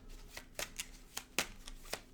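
Tarot cards being shuffled by hand in a quiet room, a series of crisp papery riffles and snaps in an irregular rhythm, close and fairly soft, with no talking.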